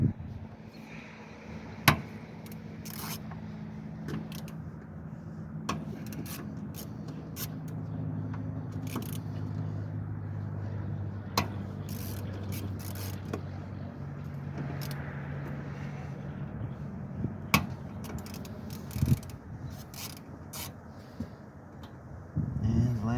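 Fuel pump screws being broken loose on a 1999 Lexus ES300, heard as scattered sharp clicks and ratchety scrapes from close by over a low steady hum, with someone talking throughout.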